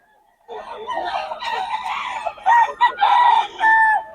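Roosters crow and chickens cluck up close, several birds calling over one another in overlapping bursts that grow louder toward the end.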